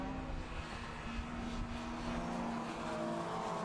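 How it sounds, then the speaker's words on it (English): Race cars from the Miata Trophy circulating the Oulton Park circuit behind a safety car, a steady engine drone with a held tone that stays at one distance throughout, with no one talking. "The majority of the cars going around that part of the race track"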